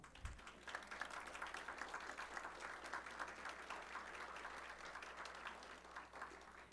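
Sustained audience applause at a panel discussion on digital asymmetries, an even, fairly faint wash of many hands clapping that continues without a break from start to finish.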